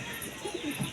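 Soft pigeons cooing at a moderate distance, a few low rounded coos rising over steady background hiss and faint ambient noise.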